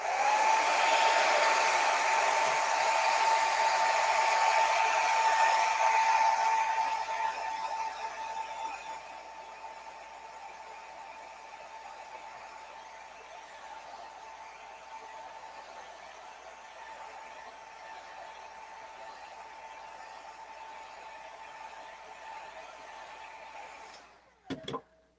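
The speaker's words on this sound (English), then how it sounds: "So I'm going to give it a blow dry" A hair dryer blows steadily over a pine-tree-and-harvest-moon painting during a paint night. A loud, constant whirring hum drops to a lower, softer setting partway through and ends with a few clicks as it switches off.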